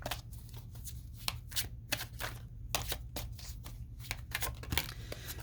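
Tarot cards being shuffled close up, a quiet series of riffling flutters and soft slaps in an irregular rhythm.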